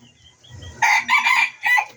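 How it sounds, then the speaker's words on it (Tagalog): A small Serama rooster crows close by in a thin, high-pitched call broken into short bursts after a moment of quiet. "Tumilaok ang liit liit ang tilaok."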